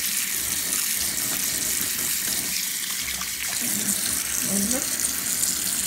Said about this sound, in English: I'm going to close the stopper, pull up the stopper, plug it, and then see how the water is flowing